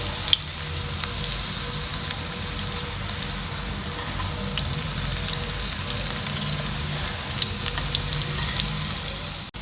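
Onion rings fry in oil over a low flame, making a dense, even sizzle that crackles without pause from start to finish, with only the odd faint click.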